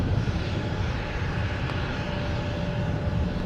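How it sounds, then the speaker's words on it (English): A jet airliner's engines roar steadily and loudly during a takeoff roll from runway 17 at Minneapolis–St. Paul airport, a broad continuous rumble with no voices over it. "runway 17, clear for takeoff."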